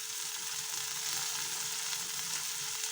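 Turmeric, chili powder and coriander powder frying in hot oil for a potato and flat-bean curry, giving a steady, close, fairly soft hiss and crackle of sizzling that continues throughout with no voices.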